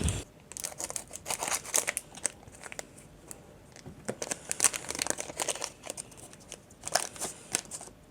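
Foil packets of Winx trading cards crinkle and tear open in close, irregular bursts, with crisp rustling and snapping continuing throughout.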